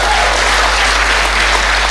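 A church congregation applauds and cheers for Jesus in loud, continuous clapping that fills the space evenly from start to finish, with no single voice standing out.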